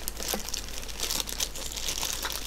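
Plastic packaging of toddler toy instruments being unwrapped, each piece individually bagged, gives steady close crinkling and crumpling with brief tearing bursts throughout.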